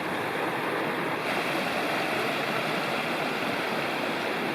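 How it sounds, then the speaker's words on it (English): Yosemite Creek flows steadily in the wilderness near the top of Yosemite Falls, a continuous, full rushing of water that holds close and loud from start to finish with no voices over it. "This is Yosemite Creek."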